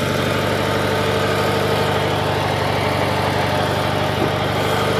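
A 1976 Gravely 816 loader engine idles close by, a loud, steady low-pitched chugging with constant vibration and no talk.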